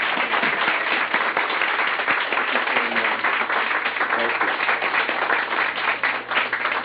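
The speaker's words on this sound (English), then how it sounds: "I want you all to give him a raving hand of applause" Audience applause welcoming a speaker at a gathering, dense sustained clapping from a crowd that holds steady throughout, with voices mixed underneath.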